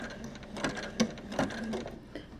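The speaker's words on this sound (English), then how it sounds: "so I'm going to start stitching." Sewing machine stitching quilt hexagons, a soft, close mechanical whir with a few quick clicking stitch pulses, faint and brief, no talk.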